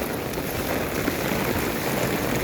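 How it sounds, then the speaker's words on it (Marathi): Very heavy monsoon downpour in a rural Maharashtra village, a dense, steady hiss of rain falling on surfaces and standing water, continuous and fairly faint with no talking. "आणि अति मुसळधार पाऊस चालू आहे."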